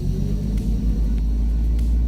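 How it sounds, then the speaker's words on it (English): A truck engine in a driving simulator idles with a steady, loud low rumble, running continuously, with no talking. "Now we're gonna turn the engine on."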